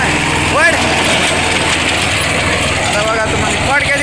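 A Mahindra Jivo 245 DI tractor runs with a rotavator tilling a sugarcane field, its engine a loud steady droning hum with rattling mechanical clatter, while people talk over it.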